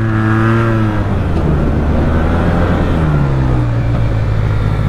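Yamaha TMAX scooter engine while riding, a steady loud droning hum with shifting engine pitch and rushing wind noise, close and continuous.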